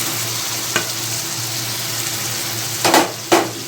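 Pointed gourd and potatoes go into a pan of fried spice paste for a potol alur curry, giving a steady close sizzle with a few sharp clattering bursts near the end.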